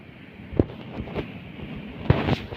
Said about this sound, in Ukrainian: Вітер піднявся і в камишові вже не так сидіть по кайфу.